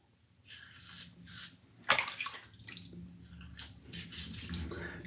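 Running water splashes and rinses shaving lather from a freshly shaved face, in uneven bursts of spatter and trickle, close and fairly loud.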